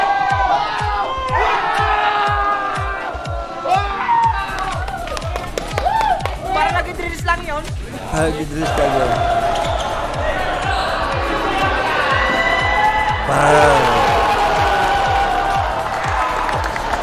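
Arena crowd at a basketball game in Leyte, with sneaker squeaks and ball bounces giving way to rising cheers and applause that swell loudly toward the end, while people talk over it.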